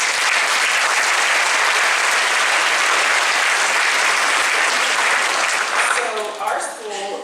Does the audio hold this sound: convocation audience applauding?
yes